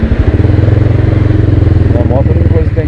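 A Honda CB300R motorcycle with an aftermarket exhaust, otherwise stock, idles close by with a loud, steady, rapid burbling pulse, while a voice talks over it near the end.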